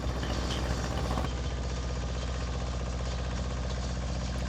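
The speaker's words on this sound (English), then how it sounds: "it's a bit noisy being on the tractor" A four-wheel-drive tractor's diesel engine runs steadily up close, a loud continuous rumble with mechanical vibration throughout, the upper hiss dropping slightly after the first second.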